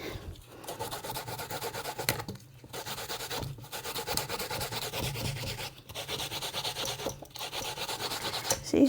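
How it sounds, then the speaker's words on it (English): Bananas being hand-grated on a grater for salt fish fritters, a steady rasping scrape repeating in strokes with brief pauses, close and moderately loud, with no talking. "See, still grating banana."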